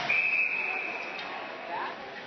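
A referee's whistle gives one sharp, loud blast at an ice hockey game, Merrimack against BU, over arena crowd noise.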